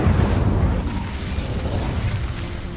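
A fire spell, Incendio, cast in Hogwarts Legacy, heard as a loud whooshing burst of flame that roars at first and then slowly fades.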